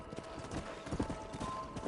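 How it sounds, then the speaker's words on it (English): Horse hooves in the video game Red Dead Redemption, a quiet rhythmic clip-clop of a trotting horse, steady and fairly faint throughout. "Where are you going, horse?"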